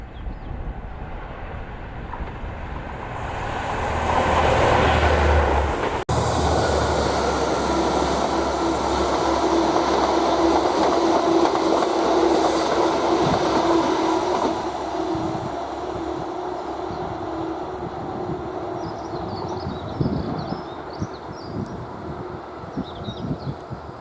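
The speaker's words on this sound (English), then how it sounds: "we see 57603 Tintagel Castle as she passes Langham, heading the 1044 Long Rock to Reading Train Care Depot ECS" Class 57 locomotive 57603 Tintagel Castle passes Langham hauling empty coaching stock, a loud rising diesel roar with rolling wheel noise that peaks, holds, then fades with clattering over the rails.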